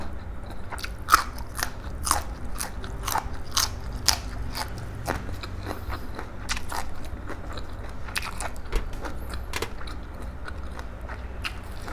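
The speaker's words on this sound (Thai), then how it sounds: "แตงกรอบๆเลยพี่น้องเลย" Crisp, crunchy bites into fresh raw cucumber served alongside spicy Thai pork larb, a steady run of sharp close-up crunches and chewing repeating for the whole stretch with no talk.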